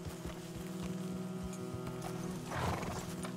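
Horse in the video game Red Dead Redemption 2 whinnying and snorting over steady clip-clop hoof steps, close and continuous, with a louder breathy snort near the end.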